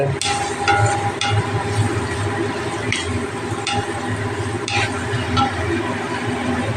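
Bread pulao with a pinch of turmeric is stirred in a pan, a spatula scraping and clicking against the metal in an uneven rhythm over a low frying sizzle.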